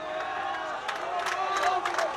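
A crowd at a Premier Interschools rugby match between Bishops College and Rondebosch Boys High, cheering and roaring in a steady wash with a few louder swells, somewhat distant.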